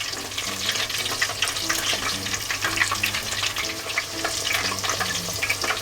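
Rape flower karaage frying in hot oil: a dense, steady crackling sizzle with fine popping bubbles, close and continuous throughout, with a low hum beneath and no talk.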